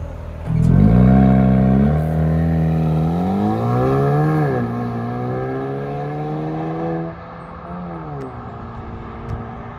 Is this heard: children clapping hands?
no